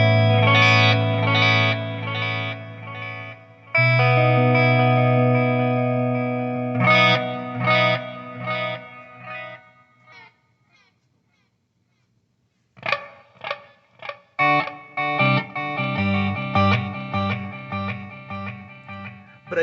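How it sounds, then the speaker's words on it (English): Electric guitar notes and chords ring out through a Boss delay pedal with reverb, repeating echoes trailing off into reverb, with a quiet pause before choppy repeated notes resume. "I believe it's a digital or standard delay with some reverb mixed in"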